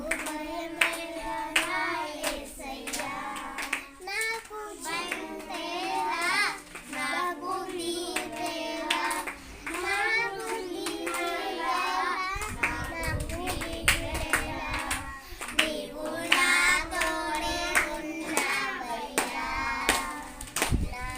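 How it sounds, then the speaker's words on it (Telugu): Children clapping their hands in quick bursts at a Sunday school, loud and close, with voices and singing mixed throughout. "గట్టిగా క్లాప్స్"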